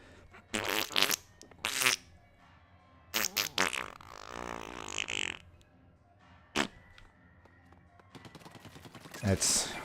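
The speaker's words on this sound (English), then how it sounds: "Which means another fart noise." Fart noise sound effects played during a Mario Kart World livestream on a Switch 2: several loud, brief raspy bursts in a row, each standing alone between short gaps, with a final sputtering blast at the end.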